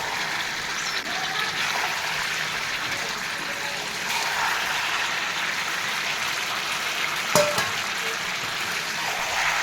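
Chicken frying in a pan with gravy just added: a steady, even sizzle and bubbling holds throughout, with a brief sharper splash or clink near the end, no talking.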